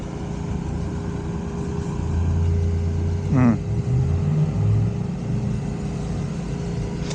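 A fire truck's engine rumbles steadily nearby, swelling slightly midway, with a brief squeal or chirp cutting through around the middle.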